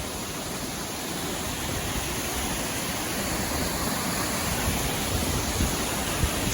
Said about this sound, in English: Say those waterfalls are about 50, maybe 60 feet high.